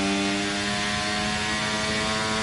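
A race car engine at a Mexico circuit holds a steady high-pitched drone at high revs, loud and continuous throughout with no shifts audible.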